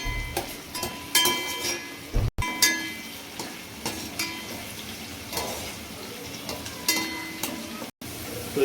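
Onions deep-frying in oil for Hyderabadi chicken biryani give a quiet, steady sizzle, broken by occasional stirring and light metallic clinks of a spoon against the pot.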